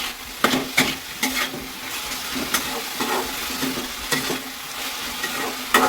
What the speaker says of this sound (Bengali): মেথি শাকগুলো এর মধ্যে দিয়ে দেবো, দিয়ে ভালো করে ভাজা ভাজা করবো